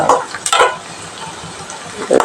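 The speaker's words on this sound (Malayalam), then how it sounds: "ചുമന്നുള്ളി നന്നായി വഴന്നു വെക്കാം" Shallots sautéing in a pan for a Kerala green gram stir-fry, a close, steady sizzle broken by a few louder bursts of stirring and scraping near the start and end.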